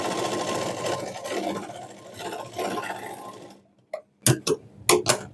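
A sewing machine stitches a lehenga in a steady run up close, then stops and gives a few short separate bursts.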